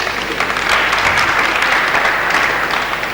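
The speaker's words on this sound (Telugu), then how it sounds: "ముందే చప్పట్లతోటి అతని జవాబుని ప్రేక్షకులు ఆమోదించేస్తున్నారు" Studio audience at a Telugu television quiz on mythology breaks into steady applause after a correct answer, a dense, sustained clatter of many hands clapping at close range throughout with no voices over it.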